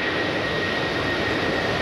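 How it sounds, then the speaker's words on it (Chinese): An Airbus Beluga transport aircraft at Taoyuan airport makes a continuous, loud, broadband engine roar, steady throughout a short stretch with no voices. "这台空中巴士运输机全球只有五架，惊喜现身桃园机场"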